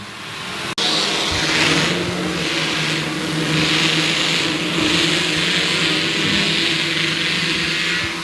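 An Outlaw Midget race car engine at Sauble Speedway roars loudly and continuously as it passes on the track. The pitch rises and falls in waves, with another engine faintly underneath and no talking.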